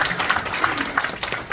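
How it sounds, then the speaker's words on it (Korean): A short burst of audience applause fills a hall at a general assembly meeting, dense, even clapping from many hands at moderate distance with no voices over it. "박수 좀 쳐주십시오"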